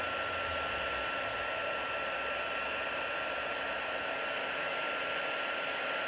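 Heat gun blowing continuously for heat embossing on a handmade card, a steady close whooshing roar of hot air with no pauses or talking.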